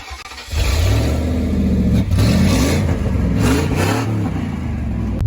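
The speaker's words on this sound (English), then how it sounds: "Go ahead and give her a cold start" Old red truck engine cranks and catches on a cold start, then runs loud and rough nearby with revving surges.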